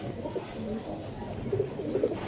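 Giribaz pigeons, a pair among birds offered cheaply with their young, coo in low murmuring throbs close by, steady and moderately loud over a faint rustling background.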